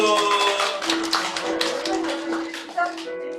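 Church audience applauds students at a December service, a dense patter of hand claps mixed with voices and a sustained tone, fairly close and loud throughout.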